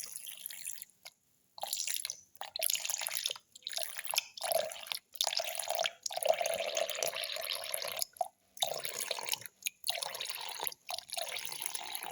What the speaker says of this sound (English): pour in around 300 ml milk